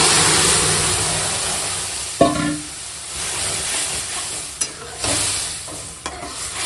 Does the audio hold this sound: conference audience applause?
no